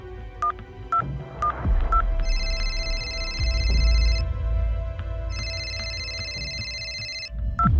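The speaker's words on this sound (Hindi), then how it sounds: "हेलो मुनमुन, तुम मुझे क्यों कॉल कर रही हो?" A phone rings in a Hindi drama: keypad-style tones first, then two long electronic ringtone bursts, loud and close with a low rumble beneath.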